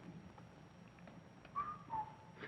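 In a 1953 television panel-show studio, one short, faint whistle rises and then glides downward over a quiet room background, with no talking.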